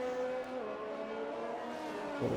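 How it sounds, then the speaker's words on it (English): An F1 race car engine in an Xbox racing game at the Belgian Grand Prix screams at high revs, a steady strained whine held throughout, fairly faint. "you can hear the car screaming to try and get some power out of it"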